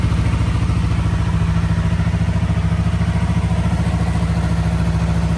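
A 2025 Yamaha MT-03 motorcycle engine runs close by with a fast, even pulsing idle and a light mechanical clatter, steady and fairly loud throughout with no talking.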